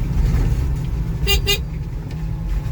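Two short car horn toots in quick succession from a 2024 Volta EV1 electric car driving in rain sound over steady traffic rumble.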